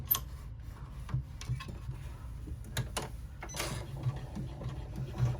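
A sewing machine runs a top stitch on a small dolly-sized rucksack, a soft mechanical whir with light ticking clicks at close range.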